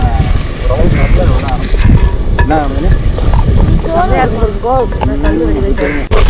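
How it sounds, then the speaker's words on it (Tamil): Onions with garlic frying in a pan for a dry anchovy curry, a loud, continuous sizzle with scraping stirs throughout and a voice faintly underneath. "இதெல்லாத்தையும் சேர்த்துட்டு அப்படியே ஃப்ரை பண்ணுவோம் நல்லா ஃப்ரை ஆகணும் வெங்காயம் எல்லாமே நல்லா ஃப்ரை ஆகணும்"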